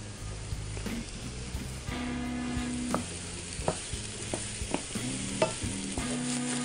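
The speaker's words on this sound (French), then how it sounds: "pendant que les champignons cuisent" Porcini mushrooms fry in a pan with a steady sizzle, broken by a few sharp utensil clicks and scrapes as they are stirred up close.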